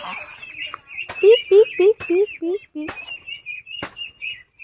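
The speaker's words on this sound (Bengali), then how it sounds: "দেখো কত হাঁস" Ducks calling near a village banana garden, a quick run of several nasal quacks close by, then sparser calls with brief sharp clicks and a few voices in the background.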